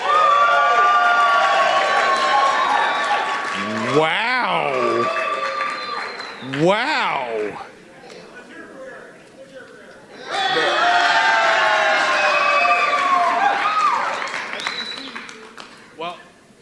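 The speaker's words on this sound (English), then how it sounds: "By applause, let's hear it for You Can Bet on That." A live podcast-event audience in Las Vegas bursts into loud applause and cheering in two long waves, with a person's excited exclamations heard in between.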